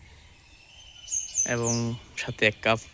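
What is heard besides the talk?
birds chirping in a village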